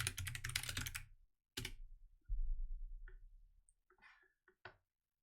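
Computer keyboard typing comes in quick bursts of clicking keys, close and fairly crisp, separated by brief pauses and a few isolated taps.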